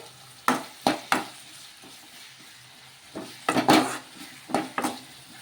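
Egg uggani masala with salt being stirred in a pan, a spoon scraping and clinking against the metal in several short bursts over a soft sizzle, with pauses between strokes.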